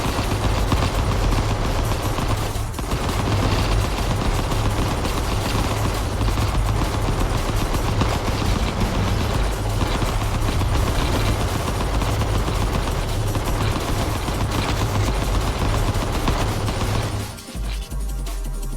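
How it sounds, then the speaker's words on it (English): Constant rapid gunfire and explosions in the video game Vital Shell rattle without letup, a dense, loud barrage that cuts off abruptly near the end. "This game's soundscape is just devolving into a cacophony of constant gunfire."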